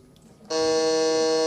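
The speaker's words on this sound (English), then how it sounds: "Try your buzzer," A quiz contestant's buzzer at a live business quiz semi-final in New Delhi sounds once, a loud sustained electronic tone that starts abruptly and holds steady, heard alone without talk.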